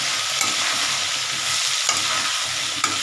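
Pointed gourd and potatoes frying in hot oil while being stirred: a steady, close sizzle with a few light utensil scrapes against the pan, no voices.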